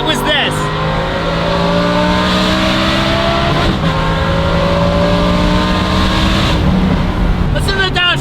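A Lamborghini Huracan STO V10 fitted with a Valvetronic Designs exhaust revs hard and close, its pitch climbing through sustained high-rpm pulls with a brief gear change midway, while a voice talks over it.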